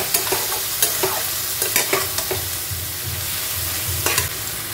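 Garlic, ginger and green chili paste frying in a pan with turmeric and salt for chicken varta: a close, continuous sizzle punctuated by repeated spatula scrapes and stirs.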